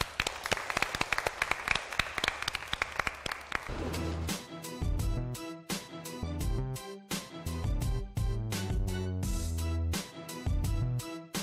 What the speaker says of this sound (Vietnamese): Tôi rất muốn là tất cả chúng ta cùng dành một tràng vỗ tay nữa để chúc mừng hạnh phúc cho họ.